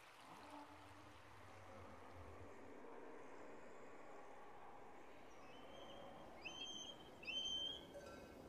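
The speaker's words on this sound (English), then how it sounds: "there's a freaking bird that won't stop screeching on the ambience" In the ambient soundscape of the Dwarf Fortress video game, a bird lets out a couple of short, high screeching calls near the end over a faint, steady bed of flowing water.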